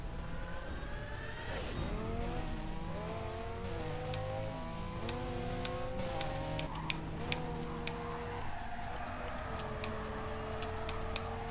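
A race car engine in the street racing game NFS Carbon screams and climbs through the gears, its pitch rising and dropping repeatedly as it shifts, with steady road noise and sharp ticking clicks scattered over the top.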